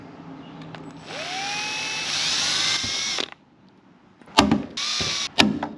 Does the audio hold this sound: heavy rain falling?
no